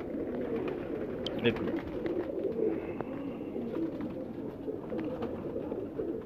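Fransi breed pigeons on a rooftop loft in Faisalabad give soft, repeated low coos close by, while someone talks over them throughout.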